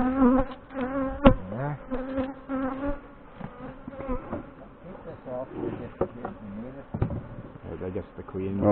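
Agitated honey bees buzz steadily around an open hive while honey is collected at a fireweed site. The close, droning hum runs the whole time under people's talk.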